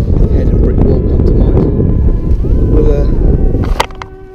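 A strong headwind buffets the microphone in broad, steady rumbling gusts at the water's edge while someone wades and casts for bass, easing off near the end.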